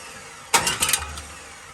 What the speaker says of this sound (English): I don't even know if this motor's gonna turn over